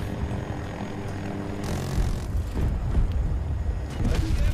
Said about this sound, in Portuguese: O cara tava até agora voando com o helicóptero.